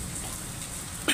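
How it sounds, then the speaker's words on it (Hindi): Heavy rain pours steadily in a dense, continuous hiss close by, ending with a brief louder splash or clatter. "ये घमसान बारिश हो रही"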